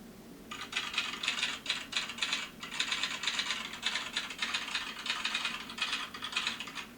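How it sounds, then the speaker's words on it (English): Rapid mechanical clicking in quick bursts with short pauses, a steady clattering rhythm like typewriter keys striking, fairly close and without any talking. "this sound calls itself a typewriter"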